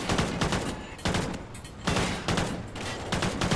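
Repeated bursts of loud gunfire in the video game Call of Duty: Ghosts, with rapid volleys separated by short pauses, close and dominant.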